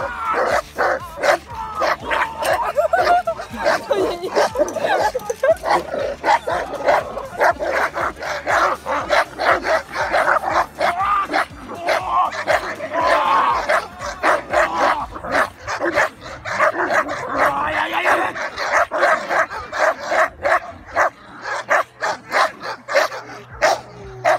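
A Moscow watchdog barks during guard-protection training, rapid continuous deep barks and yips in a fast relentless rhythm, close and loud, with occasional whimpers, lasting the whole stretch.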